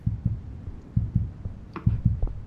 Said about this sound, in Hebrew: למה הלב שלי דופק?